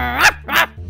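A dog in Minecraft gives two quick, loud, close barks in a row, then goes quiet.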